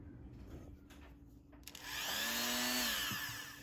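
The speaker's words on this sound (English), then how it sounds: "I'm gonna take my little Dremel and round it out and sand it out" A small Dremel rotary tool sands and rounds the edge of a knife blade, a high whining grind rising in after quieter handling noises and holding steady for a couple of seconds, faint overall.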